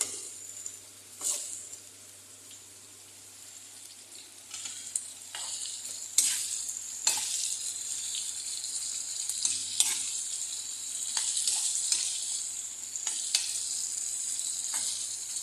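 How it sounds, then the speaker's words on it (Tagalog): Upo sautéed with garlic, onion and ginger sizzles steadily in a hot pan, with a spatula stirring and scraping in irregular bursts, close and continuous throughout. "Igisa nyo sa bawang sibuyas, luya."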